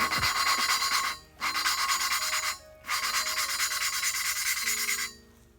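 Valve lapping on a Honda B17A1 VTEC cylinder head: a loud, steady grinding rasp in three long bursts, separated by two brief pauses, close up with no talking.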